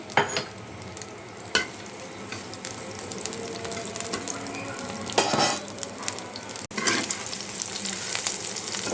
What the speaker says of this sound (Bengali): তো কলা আর আলুটা আমি ভেজে নিই পেঁয়াজ আর কাঁচামরিচ দিয়ে দিলাম